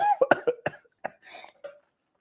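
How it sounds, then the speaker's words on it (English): A person coughs in a rapid, close series of harsh, choking bursts, then gives a few weaker coughs and clears the throat before going quiet. "Why am I choking?"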